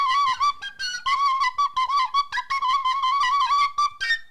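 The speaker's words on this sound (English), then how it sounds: "Go ahead. Whistle us out." A person whistles a lively, quick melody alone to close out a comedy podcast, close and clear with short rhythmic phrases.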